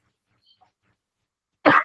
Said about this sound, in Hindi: बीच बीच में खांसी आ रही है